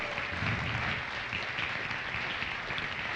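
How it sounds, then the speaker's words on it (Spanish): A church congregation at a Catholic service claps in a dense, steady wash of applause that holds evenly throughout, loud and close with no voices standing out. "Demos un aplauso fuerte al Señor."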